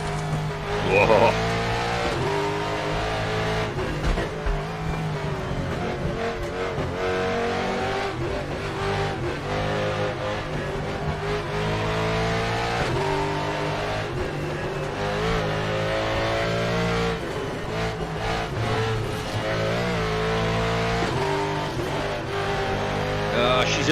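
Car engine revs hard and steadily with intermittent tire squeals, continuous and close throughout, with someone talking over it at times.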